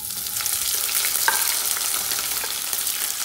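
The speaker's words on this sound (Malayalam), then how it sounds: "ഒരു പാനിൽ ഞാൻ കുറച്ച് വെളിച്ചെണ്ണ ഒഴിച്ചിട്ടുണ്ട്. ഇതെല്ലാം കൂടെ നമുക്ക് ഒരുമിച്ച് നമുക്ക് ഈ പാനിലേക്ക് ഇടാം." Tomato, coconut and coriander fry in coconut oil in a pan, giving a steady, dense sizzle that stays loud and even throughout, with a few faint stirring clicks and no voices.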